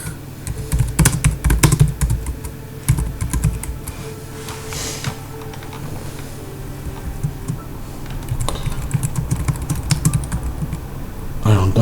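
Rapid clattering keystrokes on a computer keyboard during online PvP gaming, dense bursts of typing close to the mic with brief pauses and a low hum beneath.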